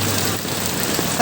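Heavy rain pours during a flood on the way to the market, a dense, loud and even hiss of drops drumming on surfaces close by, with no voices.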